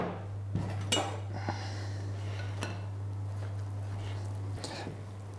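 A mushroom steak mixture with paprika being mixed in a baking dish, with faint clinks and taps of utensil against the dish over a steady low hum, quiet and sparse.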